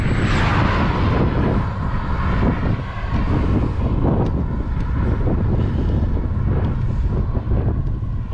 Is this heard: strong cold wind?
yes